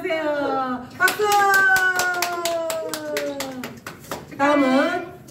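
Rhythmic clapping at a celebration for passing a nursing exam, a dense burst of many hands close by that runs for several seconds, with voices rising over and around it.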